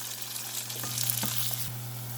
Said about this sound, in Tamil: நல்லெண்ணெயில் தாளிக்கணும்